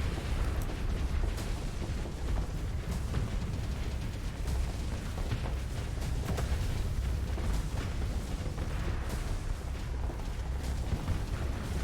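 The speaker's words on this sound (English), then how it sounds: "So here comes the Void Rift Emitter." Void Rift Emitter weapons firing in a Starsector space battle, producing a dense, continuous roar of overlapping explosions and booming bursts that stays loud and steady throughout.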